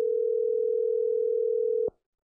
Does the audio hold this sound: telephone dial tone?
yes